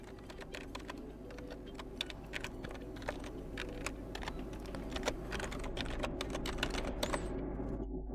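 Fingers typing an email address on a computer keyboard while unlocking the bootloader of a Nokia 8 Sirocco phone, with a steady run of quiet, irregular key clicks lasting several seconds and no talking.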